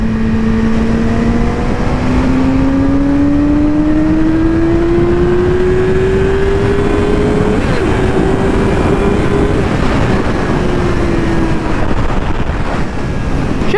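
2019 Yamaha R6 sport motorcycle pulling hard under acceleration on a ride, engine note climbing steadily in pitch through a gear, close and loud under heavy wind roar.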